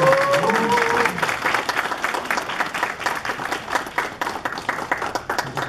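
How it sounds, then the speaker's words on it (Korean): Audience applause at an alumni award ceremony where a plaque is presented, opening under a voice and continuing as loud, even clapping that gradually thins. "큰 박수로"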